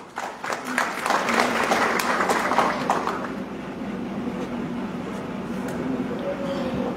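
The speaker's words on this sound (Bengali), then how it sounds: "আমরা দাদার জন্য একটা জোরে করতালি দিই।" Dense applause rises from an audience at an Easter reunion and greetings gathering, loud and sustained at first, then holding as a steady wash of clapping with faint voices underneath.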